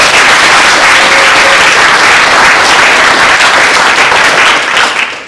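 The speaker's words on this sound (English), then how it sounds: "Let's give them a round of applause." A seated audience at a publication event breaks into a sustained round of applause, loud, dense clapping holding steady for several seconds before easing off at the end.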